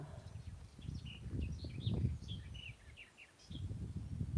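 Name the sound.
wild bird singing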